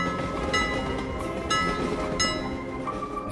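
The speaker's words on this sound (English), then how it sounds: "The train is arriving at the train station." Toy train from a BRIO wooden railway set pulling into a station, a steady rolling rumble with bright whistle-like tones sounding in a few short pulses, close and fairly loud without any voices.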